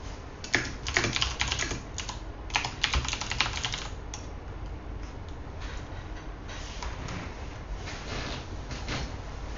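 Rapid typing on a computer keyboard during a programming session, with dense bursts of clicky keystrokes in the first four seconds, then sparser, lighter taps at close range.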